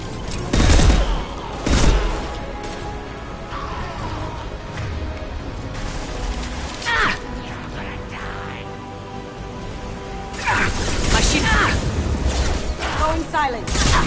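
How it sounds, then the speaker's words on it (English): Bursts of gunfire crack out loud and close in a few sharp clusters, with a quieter stretch between them and a heavy volley near the end, over a steady background hum. "Firing now."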